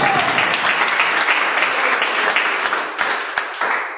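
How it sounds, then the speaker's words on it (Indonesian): Church congregation applauding with dense, close clapping that thins out and trails off near the end. "Beri tepuk tangan bagi Tuhan."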